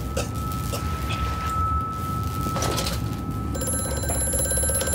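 An old-style mechanical telephone bell rings in the horror video game Amnesia: A Machine for Pigs. A rattling metallic trill sounds through a low, grinding ambient drone, with the ringing growing more prominent near the end.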